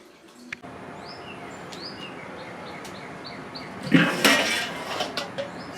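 Cast iron skillet handled outdoors at a Weber kettle grill: light metallic clinks and scrapes, then a louder burst of clanking rattle near the end, with birds chirping repeatedly in the background.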